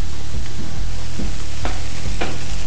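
Chicken roulade browning in a frying pan, giving a steady, loud close sizzle with a few soft scrapes and stirs and no talking.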